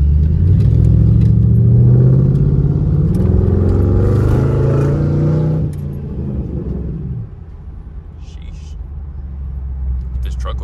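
A Mercury Grand Marquis with a pop-tune exhaust revs loudly up close, its deep engine roar climbing and falling over several seconds before dropping to a quieter idle rumble with faint crackles, while people talk nearby.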